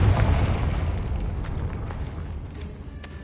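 A Confringo blasting-spell explosion in the Hogwarts Legacy video game: a loud, deep boom at the start that rumbles and slowly fades, with a few faint crackles and pops near the end.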